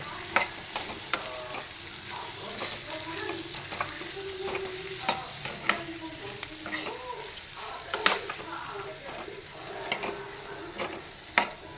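Fresh, tender cashews and potatoes sauté in hot oil, sizzling continuously while a spoon scrapes and stirs the pan at a steady pace, with sharp clicks and taps of metal on metal.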